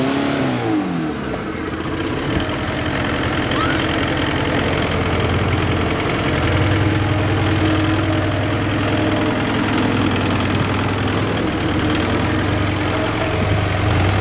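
Engine of a full-bodied Suzuki Samurai on Portals and 43-inch tires climbing rocks off-road, a loud steady mid-pitched drone that rises and revs under load, close and continuous without talk.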